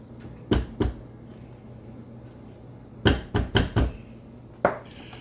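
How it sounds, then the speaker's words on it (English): A spatula scraping down a cake batter mixing bowl for a root beer pound cake, heard as a few separate knocks and scrapes: two near the start, then a quick cluster of four and one more near the end, with quiet between. "Let's give this bowl a scrape down before I add the eggs in."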